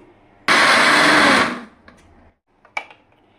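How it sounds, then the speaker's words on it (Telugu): A kitchen mixer grinder purees two chopped tomatoes for paneer dum biryani in one loud, roaring burst of about a second. A few quiet clicks and knocks follow as it winds down. "వీటిని చిన్న ముక్కలుగా కట్ చేసుకొని మిక్సీ పట్టుకుంటాను."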